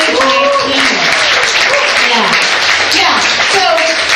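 Applause from an audience at an Isagenix meeting in New York City, dense sustained clapping with voices and cheers mixed in, loud and steady throughout.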